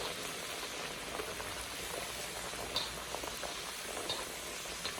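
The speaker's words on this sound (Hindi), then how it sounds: "ये हमारा दूसरा कतलम्बा भी जा रहा है बहुत ही गर्म ऑयल में।" A katlama flatbread fries in smoking-hot oil, giving a steady, dense crackling sizzle with tiny pops scattered throughout, close and even in level from start to finish.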